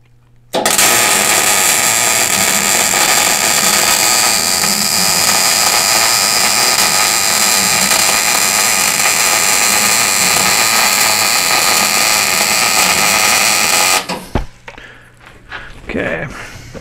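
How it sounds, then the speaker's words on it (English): Welding on the swing arm of a 1999 Harley-Davidson Road King sidecar build produces a loud, steady buzzing hiss lasting about fourteen seconds. It then cuts off abruptly, followed by quieter shop clatter and a brief voice. "And let's weld this one up."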